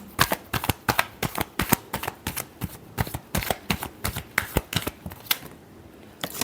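Tarot cards being shuffled by hand, a quick run of crisp riffling bursts in a steady rhythm, close and fairly soft, with no voices.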